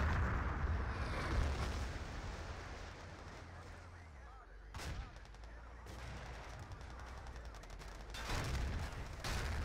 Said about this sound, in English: Follow-up artillery, this time from Existence.